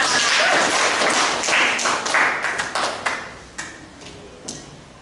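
An audience claps at an indoor gathering: a brief burst of applause that thins into a few scattered, sharp claps before fading out, with no voices over it.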